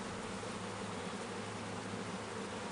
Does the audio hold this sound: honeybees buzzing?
yes